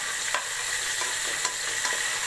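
Tomatoes, green chillies and spring onion frying in a pan, giving a steady close sizzle with a few soft stirring scrapes and no talk.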